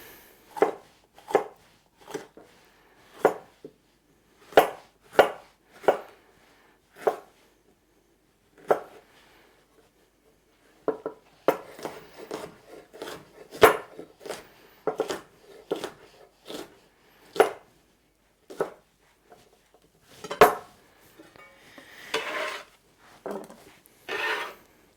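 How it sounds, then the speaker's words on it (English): A knife chops food into cubes on a board in two bursts of sharp, evenly spaced strikes, close and distinct, separated by a short pause, with some faster, busier cutting near the end. "And half I'm going to cut into cubes."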